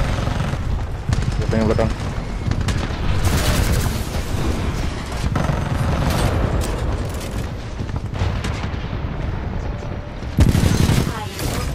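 Dense bursts of automatic gunfire and booms from the Attack on Titan video game rattle on continuously, loud and rapid, with a player talking over the shooting.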